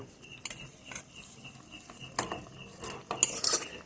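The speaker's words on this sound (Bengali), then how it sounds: "এবারে যে চিকেনটা ছিল সেই চিকেনটা আমি এর মধ্যে মিশিয়ে দেব" Cooked chicken being stirred into parboiled rice in a metal pot for meat khichuri, with a spoon scraping and clinking against the pot in uneven strokes, close and moderately loud, no voices.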